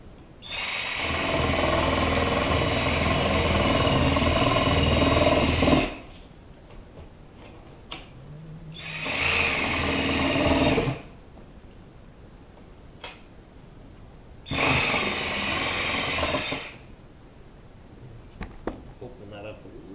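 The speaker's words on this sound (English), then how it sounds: "Modify that cut slightly with my reciprocating saw." A reciprocating saw trims a cut in plumbing work in an apartment, running in three loud buzzing bursts of about two to five seconds each, separated by quieter pauses with small clicks and handling noises.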